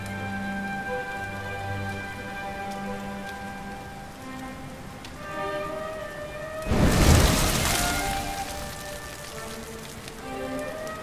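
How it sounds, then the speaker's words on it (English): Steady rain patters across a surface in the video game Dragon Quest XI S, layered over soft sustained musical tones, with a louder wash of downpour swelling briefly in the middle before settling back to a gentle shower. "Looks like the rain's dying down."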